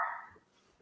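A dog gives a single short bark nearby, a sharp yelp that fades within a fraction of a second, with no one talking.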